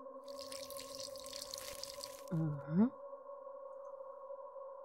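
In a horror video game, a rose is watered, giving a soft splashing pour for a couple of seconds, then a short wobbling chime over a steady droning tone.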